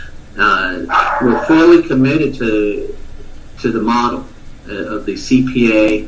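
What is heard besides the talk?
small dog barking in the background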